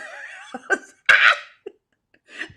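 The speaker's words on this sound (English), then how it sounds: "The sneeze just came out of me." A short burst of sneezing or coughing, close and sharp, with breathy sounds before and after.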